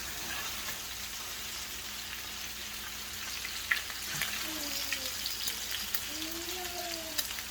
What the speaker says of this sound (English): So now that the sausage is done, we're just going to move it right over into the potato pan.